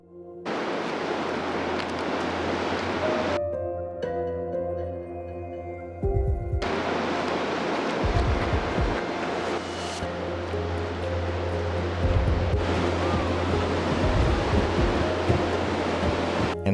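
Ocean surf breaks on a sand beach at Big Sur with broad, rushing wash. Several surges swell and fall, loud and close, with no voices.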